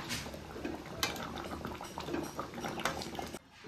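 Rohu fish curry with taro and eggplant simmering in a pot as it is stirred, bubbling liquid with soft scraping and clinks of the spoon against the pot, quiet and close, ending in a brief pause.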